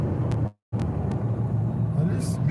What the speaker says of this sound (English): There's a huge traffic right now in Chicago.